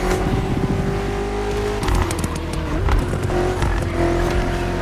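BMW M5 CS driving in the racing game The Crew Motorfest, a loud sustained engine drone with rising revs, gear shifts and a brief tire squeal, close and continuous.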